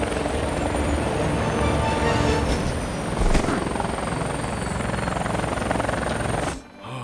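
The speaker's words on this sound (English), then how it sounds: "Hey, I just fly the chopper." A cartoon helicopter flies steadily, its rotor chopping loud and continuous close by with a brief swell midway, before the roar drops off sharply near the end.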